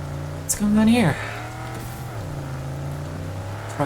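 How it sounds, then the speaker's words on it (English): In a video game, a truck brakes to a halt with a brief rising squeal and engine drone that settles into a low idle hum, heard close, with a voice talking over it. "Truck is just stopping on the freaking thing."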